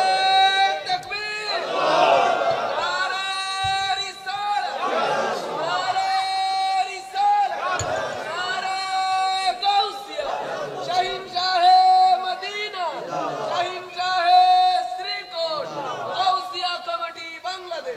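A large crowd at an Islamic gathering chants the Nara-e-Takbir slogan over and over in loud, rhythmic call-and-response bursts, a leader's voice amplified between the massed shouts.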